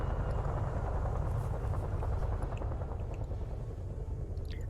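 A heavy Chinook twin-rotor helicopter in the Arma 3 video game flies close by, a loud, steady low rotor rumble with rapid throbbing blade beats that slowly fades slightly, with no voices.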